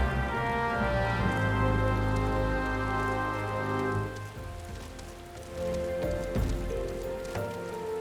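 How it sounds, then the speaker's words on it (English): Steady rain pouring in the Final Fantasy XIV game world, a dense continuous patter running the whole stretch with layered musical tones beneath it, easing slightly midway before swelling again. "I do like it when it rains."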